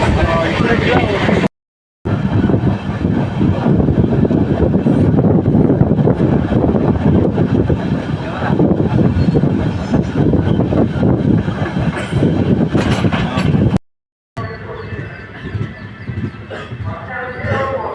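Steady, loud rumble and clatter of a passenger train running on the Guntur to Ernakulam route, heard from inside a carriage, with wind buffeting the microphone and two brief dropouts in the sound.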